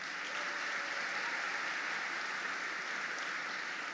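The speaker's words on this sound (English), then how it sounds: "so please give them a round of applause" An audience at a high school graduation ceremony applauds faculty and staff, a broad, continuous roar of many clapping hands, steady and fairly distant, filling the hall without pause.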